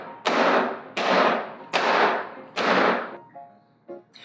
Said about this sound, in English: you want to bang the tray a couple times just to make sure that the batter goes between all the cracks